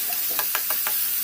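Chopped tomatoes sauté in a pan for a green sundakkai kuzhambu, a steady close sizzle with four soft stirring scrapes in quick succession.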